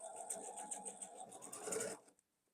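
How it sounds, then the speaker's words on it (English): A sewing machine runs steadily for about two seconds while stitching a quilt block, a fast, even mechanical whir with rhythmic pulsing that speeds up slightly before stopping abruptly, close and alone. "I'm going to start here, back stitch, and I'm just going to stitch about 1/2 inch over to lock that in nice and good,"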